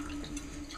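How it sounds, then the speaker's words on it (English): Water hisses faintly and steadily through a toilet tank fill valve as it refills, quiet and close with a slight trickle. "just let a little water out until the valve turns on and starts filling"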